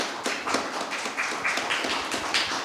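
Audience applause at a public event on media's role in preventing violence against women and girls, a steady patter of many hands clapping together, moderately loud and continuous with no talk over it.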